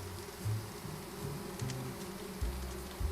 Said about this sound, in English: Oh, great. Bees love me.